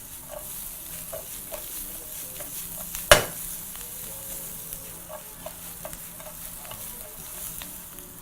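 Potatoes and onions fry in a nearly dry pan of absorbed oil with a soft, continuous sizzle, steady stirring scrapes and one sharp clank of utensil on pan.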